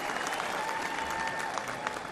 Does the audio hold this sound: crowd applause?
yes